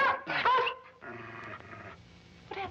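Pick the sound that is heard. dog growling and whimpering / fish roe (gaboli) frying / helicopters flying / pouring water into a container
dog growling and whimpering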